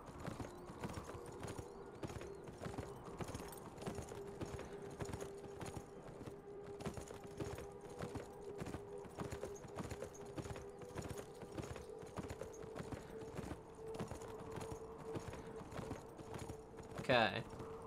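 Rapid rhythmic hoofbeats of a galloping horse in the video game Beyond Two Souls, a steady clip-clop that carries through the whole stretch, with a brief whinny or sharp sound near the end.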